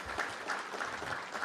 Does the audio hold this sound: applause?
yes